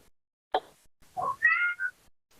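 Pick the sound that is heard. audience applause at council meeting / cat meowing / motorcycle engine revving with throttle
cat meowing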